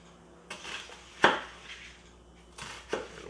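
A knife makes small cuts into an onion on a board while dicing: a few sharp, separate taps and knocks, one louder clack in the middle, with quiet gaps between.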